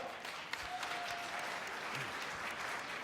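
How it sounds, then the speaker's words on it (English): A conference audience applauds, many hands clapping in a dense, even wash that fills the room at moderate distance and holds steady for a few seconds. "Please, round of applause."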